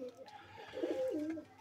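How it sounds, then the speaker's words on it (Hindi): Soft, throaty cooing from a Chinese pigeon close by, a low rolling coo swelling in the middle of the clip over faint background noise. "आ देखो माशाल्लाह चीना कबूतर बैठा"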